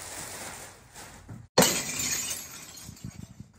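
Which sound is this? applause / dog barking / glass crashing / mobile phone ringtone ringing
glass crashing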